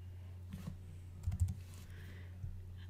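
A few soft computer keyboard key presses and clicks while working in Photoshop CS6, faint and sparse in a quiet room with a low hum underneath.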